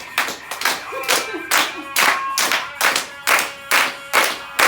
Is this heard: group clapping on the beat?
yes